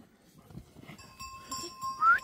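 Sheep bleat outdoors on a Tokat farm where they graze on grass, one rising, fairly close call standing out near the end over low rustling and faint tonal background sounds.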